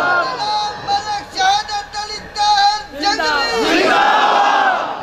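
Massed voices at a religious gathering shout two slogans (naara): choppy bursts of crowd shouting, then one long, loud unified cry swelling toward the end.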